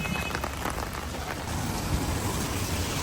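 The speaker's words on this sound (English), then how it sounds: "It's raining outside like crazy" Heavy rain pours steadily outdoors in Shanghai, a dense continuous hiss with low rumbling underneath, no voices.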